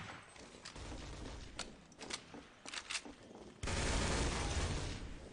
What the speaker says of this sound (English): Ross does get killed by a nicely timed shot by Suspect Zero there.